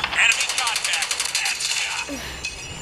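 Rapid bursts of video-game gunfire from Call of Duty rattle in quick repeated cracks over a dense mix of game sounds, then fade into quieter background noise.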